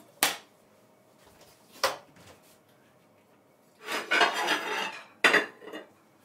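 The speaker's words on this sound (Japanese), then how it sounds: "で、お皿に盛っていきます。" Plates and utensils clink and scrape while spring chrysanthemum chijimi, a Korean savory pancake, is slid onto a dish in a home kitchen: a few sharp separate knocks, then a longer scraping rattle and one more clink, close and fairly quiet.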